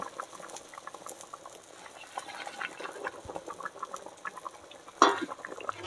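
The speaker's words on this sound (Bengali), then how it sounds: "এবার এদিকে ঝোলও ফুটে গেছে।" Fish curry broth of tangra fish simmering in a village kitchen; soft, irregular bubbling and popping close by, fairly quiet, with one sharper clink near the end.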